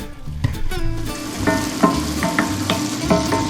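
Chopped onions frying in a pan for a stinging nettle and morel frittata, a steady close sizzle broken by scattered clinks and stirring scrapes, no voices.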